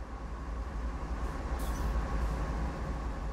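Train in the Train Sim World 2 video game, a steady low rumbling drone of the rail engine and wheels that holds at an even level throughout, with no talking.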